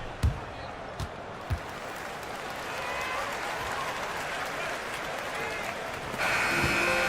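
A basketball video game crowd roars and applauds in a sustained wash of noise, with a few ball bounces early on, a commentator's voice over it, and the cheering swelling louder near the end.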